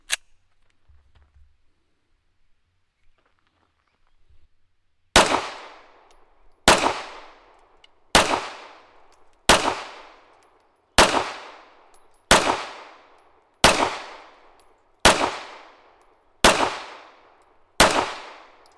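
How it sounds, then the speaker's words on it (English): Ten loud, sharp pistol shots from a 4-inch slide and barrel on a metal frame ring out at an even pace about one and a half seconds apart, each with a short decaying ring, after a quiet lead-in. "I've moved the 4-inch slide and barrel over to the metal frame. Same magazine, 10 more shots."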